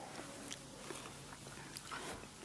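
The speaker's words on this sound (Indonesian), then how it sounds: "Kayak tebel tapi pas udah digigit itu renyah banget ya, enggak tebel ya?" Someone bites into thin, crunchy Manna Wa Salwa cheese potato chips, giving a few faint, sharp crunches close to the mic against a quiet background.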